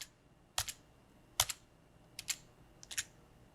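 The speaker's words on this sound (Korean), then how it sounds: "컨트롤 키와 Alt 키를 누르시고 Z를 누르시면 작업했던 내용이 순차적으로 반복이 됩니다" Ctrl, Alt and Z keys pressed on a computer keyboard in a Photoshop lesson, about five quiet clicks in close pairs, close and clear over faint background hiss with no talking.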